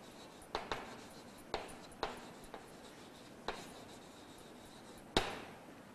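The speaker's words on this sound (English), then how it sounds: "here I'll be writing the answers" Pen writing answers by hand on paper, a sparse series of short scratchy strokes and taps at an uneven rhythm, quiet and close with no talk.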